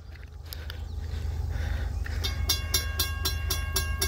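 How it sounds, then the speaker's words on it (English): A CSX oil tanker train rolls through the Beebe Bridge Road railroad crossing, a steady low rumble of wagons building, then a rhythmic clickety-clack of wheels over rail joints sounding close and loud, with no talk. "It feels like I hear a train coming."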